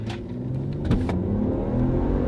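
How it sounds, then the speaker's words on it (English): A Volvo all-wheel-drive twin-turbo station wagon with 300 horsepower accelerates hard, its engine note rising in pitch as it revs up close and loud. "It is all-wheel drive, so we'll punch it and see what those 300 horsepower can do."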